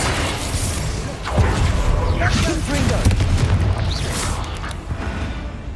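A Confringo blasting spell explodes during a spider fight in Hogwarts Legacy, a dense booming burst inside a constant loud wash of combat noise and game sound effects.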